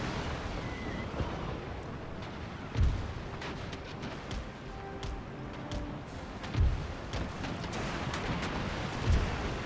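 Warship guns fire in a naval video game, three deep booming shots spaced a few seconds apart over a steady rumbling sea and engine bed.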